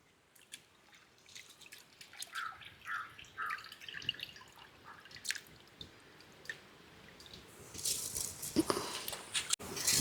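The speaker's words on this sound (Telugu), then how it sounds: "వాటర్ చక్కగా తెరులుతున్నాయండి" Water boiling in a cooking pot, ready for rice for a spiced bagara rice dish, gives off scattered irregular bubbling pops and drips, fairly quiet and close, with no voices.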